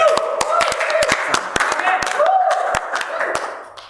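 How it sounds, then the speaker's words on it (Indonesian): Scattered hand claps from a small group ring out close by, irregular and sparse, while a person keeps talking over them. "Tepuk tangan dong."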